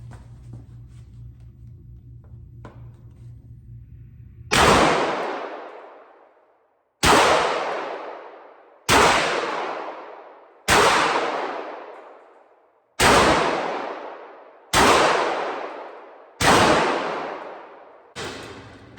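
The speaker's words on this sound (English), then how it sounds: "getting ready to try out the 1301 Tactical Beretta shotgun" A Beretta 1301 Tactical semi-automatic shotgun fires eight loud, close blasts at a steady pace of roughly one every two seconds, each one sharp and followed by a long ringing echo that decays before the next.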